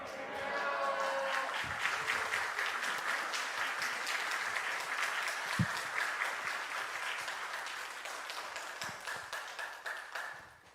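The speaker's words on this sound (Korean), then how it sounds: "또 박수로 환영하겠습니다" Congregation applauding in a Methodist church during a revival service, welcoming a speaker to the pulpit; steady, sustained clapping from a large crowd that fills the room and slowly fades near the end, with a few voices mixed in at the start.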